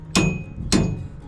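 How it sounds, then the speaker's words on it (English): Two sharp hammer blows, evenly spaced, as a retaining screw is driven into the propeller cover on a narrowboat, close and loud against a quiet background. "and hammer the retaining screw into place."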